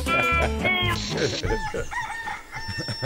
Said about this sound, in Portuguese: O galo só canta a pedido.